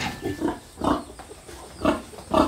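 Pigs on a small rural farm grunting and squealing near the listener in several short, loud bursts with brief quiet gaps between them.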